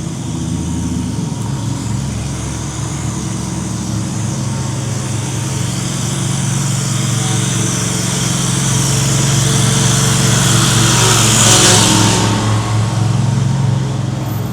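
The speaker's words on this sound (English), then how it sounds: "I'm walking past a dude on the lawnmower." A lawnmower runs steadily outdoors, its engine drone loud and continuous, swelling slightly as it passes closer near the end, with no talk over it.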